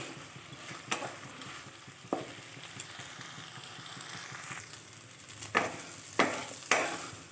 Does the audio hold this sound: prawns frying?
yes